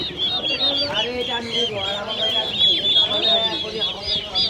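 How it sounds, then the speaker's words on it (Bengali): Fancy-breed hens at a village market cluck and squawk repeatedly amid a busy flock, with a person talking in the background at moderate volume. "একটা মুরগি একটু বের করে দেখাবো"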